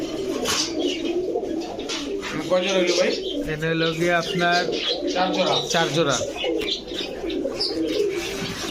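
Pigeons kept for sale, several pairs of tagged birds, coo repeatedly in the background while someone talks over them.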